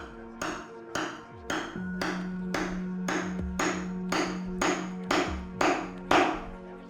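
Steady, evenly spaced metallic taps of a hammer on a chisel, about a dozen moderate blows close by, each ringing briefly, with no speech.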